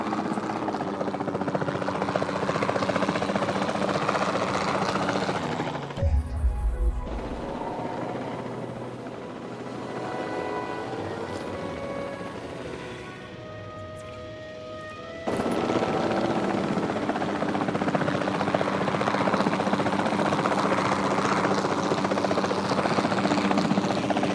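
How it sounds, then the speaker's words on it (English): Helicopter in the video game Jurassic World Evolution 2 during a dinosaur tranquilizing mission, a steady loud rotor and engine drone that briefly drops and muffles midway, then returns at full strength. "We'll start by tranquilizing one of the dinosaurs from the helicopter"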